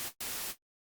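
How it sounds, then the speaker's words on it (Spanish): White noise from a synth lead layer in FL Studio plays as two short, loud bursts of flat, full-spectrum hiss separated by a tiny gap, then cuts to silence. "Vamos a ver cómo suena este ruido blanco."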